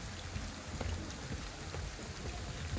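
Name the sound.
rain in the video game Ghostwire: Tokyo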